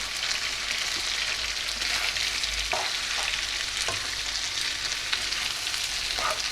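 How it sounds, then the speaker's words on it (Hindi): Garlic-ginger paste fries in a pan, giving a steady, close sizzle throughout, with a few scrapes and stirring clicks on top and no one talking. "इसमें ये 2 खाने के चमचे लहसुन अदरक है, ये डालूँगी। पहले इसे थोड़ा सा इसे फ्राई करूँगी।"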